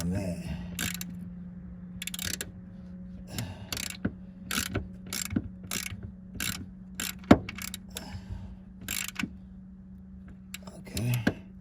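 Ratchet wrench cranked in short bursts of clicking to tighten a fitting, repeated close strokes with pauses between them over a low steady hum.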